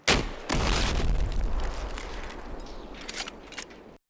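A game explosion, uncompressed, opens with a sharp blast and a second heavy boom, followed by rumbling debris that fades with echo and a few late crackling impacts.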